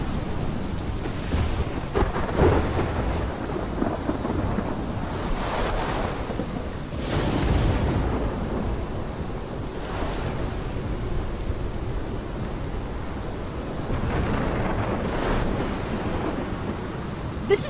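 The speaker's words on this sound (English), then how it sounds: "My storm!" Heavy rain with rolling thunder from a thunderstorm in the video game Life is Strange, a steady loud downpour broken by several deep rumbles and a few sharper cracks, no voices.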